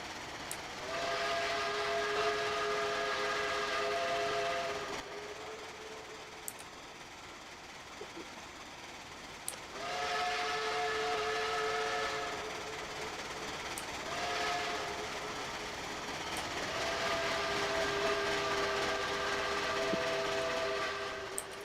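A train in a rail simulator game sounds three long, tonal horn blasts, each lasting several seconds with short gaps between, over a steady rolling rumble of the passing train.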